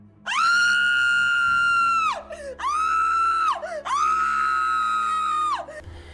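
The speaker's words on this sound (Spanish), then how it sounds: "Lancé un alarido terrible que hizo temblar toda la casa." A terrible, piercing scream in a house at night, three long sustained shrieks with brief breaths between, loud and close, with no other sounds.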